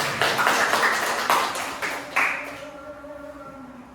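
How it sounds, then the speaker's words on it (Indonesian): A classroom of students applauds a classmate, a dense burst of clapping that fades out after about two and a half seconds, leaving faint tones and room quiet. "Tepuk tangan untuk Bella."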